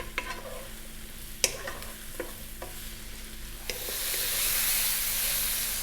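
Garlic and mushrooms frying in a pan just above medium heat, a steady close sizzle punctuated by a few sharp stirring scrapes, with the hiss swelling louder and brighter toward the end.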